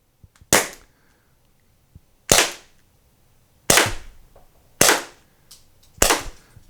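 A Mercury Rise TR50 torpedo revolver toy gun fires five sharp, loud cracking shots spaced a second or so apart, each followed by a short decay, with near silence between.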